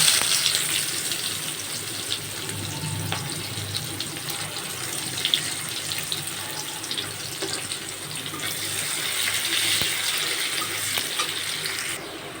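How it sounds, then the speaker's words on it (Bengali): Onions fry in the oil left over from frying fish, a loud, steady, close hissing sizzle that swells slightly toward the end. "আমার মাছ ভাজা হয়ে গেছে এখন ওই তেলের মধ্যেই দিয়ে দেবো পেঁয়াজ"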